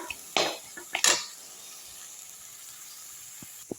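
Egg podimas with drumstick flowers and coriander stirred in a pan: two quick scraping, clattering strokes close by, then a low hiss with a faint tap at the end.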